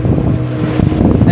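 A wooden motorboat on a ride near Tidore, its low engine drone steady and close, mixed with wind buffeting the microphone.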